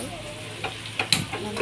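Upma cooking in a pan gives a soft, continuous sizzle close by, with several sharper scraping stirs and light clinks of the spoon against the metal.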